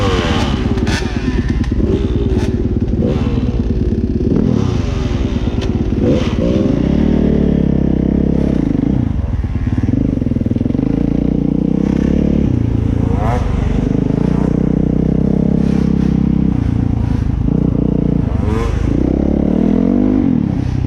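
A dirt bike engine revs hard while being ridden, rising and falling in repeated bursts of loud, rough motor roar with some rattling clatter, close and continuous over the whole stretch.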